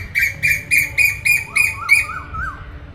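Small birds in a park give a quick run of bright, regularly repeated chirps, then a few softer warbling notes, close and clear over a low outdoor rumble.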